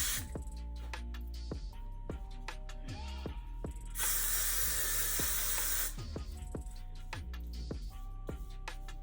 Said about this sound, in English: I'm gonna spray it just so it can stay still.